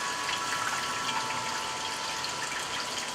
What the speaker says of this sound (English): this is how I wash the salad greens